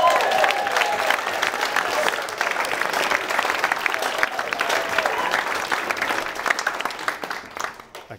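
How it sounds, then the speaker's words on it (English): A wedding reception crowd in a barn venue claps in a warm, sustained round of applause for the flower girls and page boy, dense and fairly close, tapering off near the end. "I think they all deserve a big round of applause."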